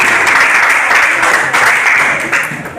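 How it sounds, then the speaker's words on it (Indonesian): A classroom group of students applauds for another group during a lesson, a dense, steady burst of clapping close by, continuous for the whole moment with slight swells. "Beri aplaus kepada kelompok 1."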